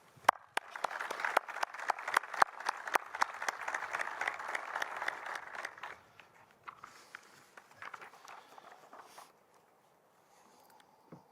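Audience applause welcoming a state representative to the podium at a peace officers memorial ceremony, steady dense clapping for about six seconds that thins into scattered claps and fades out.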